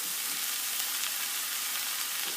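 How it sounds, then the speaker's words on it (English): Vegetables simmering in butter in a pan on the stove while pasta is being made, giving a steady, dense sizzle and crackle that holds evenly and close up throughout, with no voices. "Veggies are simmering in butter"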